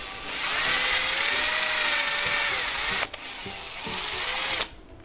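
A power drill whines steadily, boring holes into the case of a mini Bluetooth amplifier speaker (GTS-1345 TWS), stopping briefly and then starting again before cutting off, loud and close with no talking.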